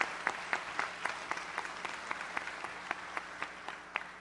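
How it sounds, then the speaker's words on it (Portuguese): An audience at a closing ceremony applauds steadily for about four seconds, with dense clapping and regular louder claps standing out, moderately distant and with no talk over it. "Então, peço uma grande salva de palmas ao Dr. Cássio Lisandro Teles."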